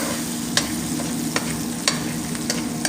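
Onion masala frying in a pan for fish fry, a continuous sizzle broken by regular sharp scrapes of a spoon stirring, close and with no voices.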